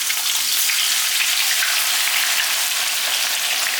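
Sliced onion frying in hot oil gives off a dense, even, close sizzle like heavy rain, unbroken throughout with no speech.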